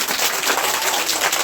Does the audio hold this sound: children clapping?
yes